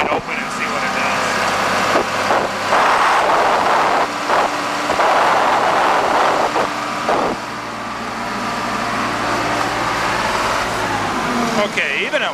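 A John Deere 4630 or 4430 tractor engine runs loud and steady close by at wide open throttle, a continuous heavy drone with slight dips in level, and no talk over it.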